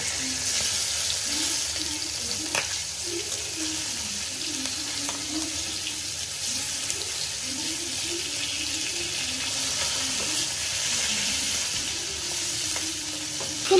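A large pangas river fish sizzles steadily in hot oil while it is turned over in the pan, with a few soft scrapes and clicks and faint background voices beneath the hiss.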